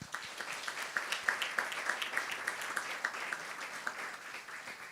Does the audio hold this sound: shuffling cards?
no